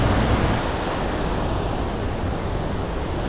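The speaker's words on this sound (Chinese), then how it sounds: "瀑布的声响又恰似魔鬼水声般的呐喊" The Devil's Throat section of Iguazu Falls, seen from the Brazilian side, gives a continuous, loud, broadband roar of plunging water that stays steady and unbroken throughout.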